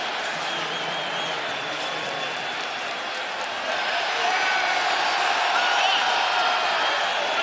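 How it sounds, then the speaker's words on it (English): Basketball arena crowd during the NBA Finals in Toronto, a sustained roar of cheering and applause that swells partway through, with commentary voices talking over it. "They don't like to hear the fans cheering."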